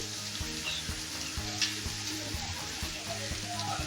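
Okra fry with peanuts and chilli powder sizzles steadily in a pan on a low flame. A spoon scrapes and knocks against the pan at a regular rhythm, close and clear, and nobody speaks.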